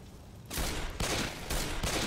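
Bursts of rapid gunfire from a zombie shooter, Left 4 Dead 2, crackling loudly in three close, dense volleys with brief gaps between them, with no talk over it.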